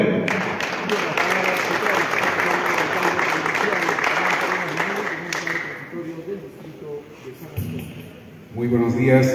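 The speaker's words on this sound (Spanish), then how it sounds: "Vamos a recibir con fuertes aplausos al alcalde transitorio provincial" An audience applauds the arrival of a provincial mayor at a school event, steady clapping for several seconds that thins out before a voice begins speaking through a microphone.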